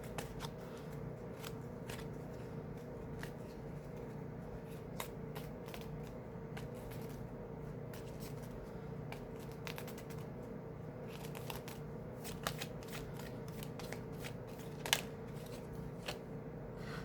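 Cards are shuffled over and over, a soft continuous riffling and flicking close by against a quiet room hum, with no talking.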